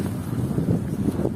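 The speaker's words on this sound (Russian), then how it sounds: "Ой, ветрище какой, жесть." Strong wind buffets the microphone on a night street in Saint Petersburg, a steady low roaring rumble with gusty swells that fills the whole stretch and drowns everything else.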